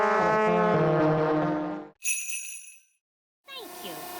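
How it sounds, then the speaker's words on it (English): Cartoon elves toot their horns in a loud, sustained brassy blast, then a short high bright toot after a pause, followed by another burst of horn tones. "Elves like tooting their horns, and we're elves."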